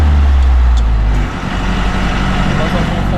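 A vehicle engine drones loudly and close just after a shift into third gear, with a brief dip in level during the change before the steady low rumble returns.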